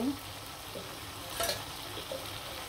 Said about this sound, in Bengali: সবগুলো মাছ দিয়ে কিন্তু খুব সুন্দরভাবে নাড়াচাড়া দিয়ে মশলার সাথে মিশিয়ে নিব